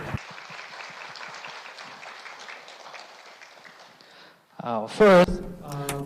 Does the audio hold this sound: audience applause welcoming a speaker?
yes